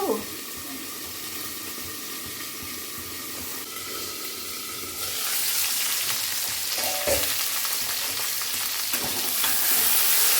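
Pumpkin pieces go into hot oil in a pan and start to fry, the sizzle swelling into a loud, bright hiss partway through, with a faint voice and some stirring early on.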